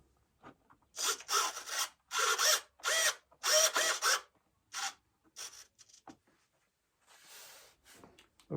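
A screw being driven into the servo horn of an E-flite Viper 90mm RC jet, heard as a series of short, close whirring bursts from a small driver with brief pauses between them, then a softer rub near the end.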